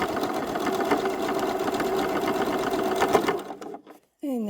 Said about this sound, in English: all I'm going to do is add some stitching, and I'm just doing it haphazardly